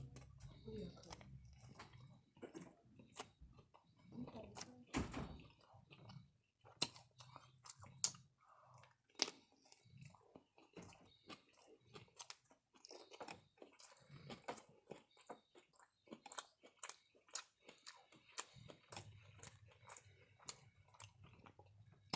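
A Jimmy John's roast beef sandwich on white bread is chewed close to the mic, with soft, moist repeated chewing and occasional sharper bites. The sounds stay faint and irregular over about twenty seconds, with a voice talking at times.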